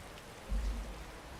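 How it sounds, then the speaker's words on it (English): Steady, soft rain ambience from Skyrim's rainy night in the Rift plays as a faint, even hiss with no voices. "9-hour rainy night in the Rift."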